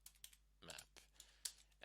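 Quick run of computer keyboard keystrokes typing a command, close and crisp, a handful of irregular taps with brief pauses between them, no talking.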